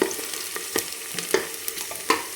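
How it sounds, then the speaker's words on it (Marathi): Finely chopped onion, one large onion, fries in a pan for an old-style black mutton curry, giving a steady close sizzle broken by several sharp scraping stirs, with no talking. "एक मोठा कांदा बारीक कट केलेला आहे तर हे कांदा छान आपल्याला एकदम मस्त तळून घ्यायचा आहे"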